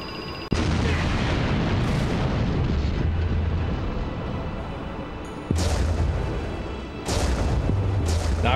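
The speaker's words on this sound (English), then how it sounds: "I didn't think the explosion was gonna hit me from up there" A detonator explosion in a video game, with a sudden loud boom followed by rumbling debris and two more heavy blasts a few seconds apart, alone without voices.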